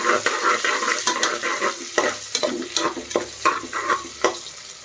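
Spice masala for soya bean biryani fries in a pan, stirred with quick, repeated scraping strokes over a constant close sizzle, with no voices.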